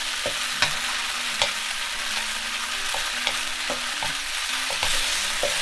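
Pot stickers fry in a hot pan with a dense, steady sizzle close by, broken by several light taps and scrapes of a utensil against the pan.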